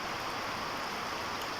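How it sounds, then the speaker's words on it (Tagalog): Steady rain falls in an even, constant hiss of drops, moderately quiet and unchanging throughout, with no voices. "Ang ulan mga idol, biyaya ni nato gikan sa atong labaw nga makagahom."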